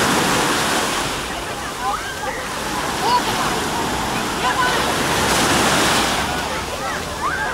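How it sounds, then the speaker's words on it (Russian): Small waves wash steadily onto the beach at Oba, Alanya, in a continuous soft roar, with faint birdlike chirps and distant voices in the background. "Здесь вот есть волночки"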